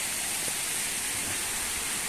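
Steady rain pours down on a farm lot in San Juan, Batangas, a continuous close, even hiss with no break or voices across the short stretch.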